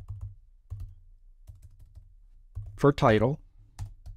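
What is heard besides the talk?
typing on a computer keyboard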